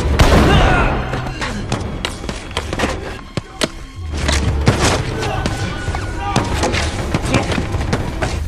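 Soldiers firing guns in a samurai film battle, a chaotic mix of sharp shots, booming thuds and impacts, with speech and a dramatic score running throughout.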